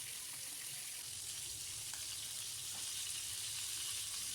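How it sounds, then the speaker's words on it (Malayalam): Chicken pieces frying in hot oil for a chicken biryani, giving a steady, dense sizzle that holds evenly throughout with no voices. "നമ്മൾ ചിക്കൻ പൊരിക്കണം കേട്ടോ"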